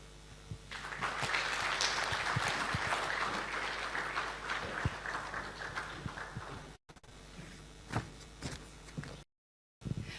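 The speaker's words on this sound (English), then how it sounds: "A round of applause for Professor Isaac Folorunsho Adewole, the former Honorable Minister of Health" An audience at a health conference applauds after a speech by a former health minister, sustained clapping that swells quickly, then gradually thins out into a few scattered claps before brief dropouts, heard from a distance at modest volume.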